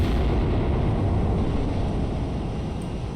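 Missile strikes slam into a battleship in the naval combat game Cold Waters, a dense, loud rumbling blast that roars continuously and fades only slightly, with no voices.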